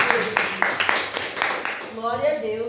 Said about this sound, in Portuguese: Vamos receber então o nosso irmão Jesus com as palmas bem alegres do nosso Senhor Jesus.